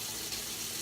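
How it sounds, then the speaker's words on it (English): Hot water running steadily from a kitchen tap into a sink, a continuous close hiss and splash with no breaks. "Yes, I got hot water on."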